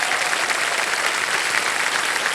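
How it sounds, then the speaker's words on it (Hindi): A game show studio audience on Kaun Banega Crorepati bursts into loud, dense, continuous applause for contestants about to play Fastest Finger First, the clapping steady and even throughout. "तालियां इनके लिए बज जाएगा फिर से।"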